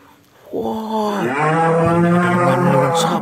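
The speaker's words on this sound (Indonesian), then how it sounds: "ada hewan sapi lagi makan rumput" A cow grazing on grass lets out one long, loud, close moo that starts low, swells and holds for nearly three seconds, standing alone without speech.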